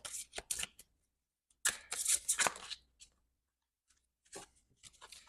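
Tarot cards being shuffled by hand in a few brisk bursts of dry papery riffling, close and moderately loud, with quiet pauses between the bursts.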